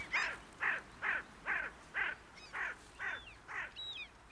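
Spotted crows call in a steady series of about nine harsh, evenly spaced caws at moderate distance, with fainter bird chirps slipping in near the end.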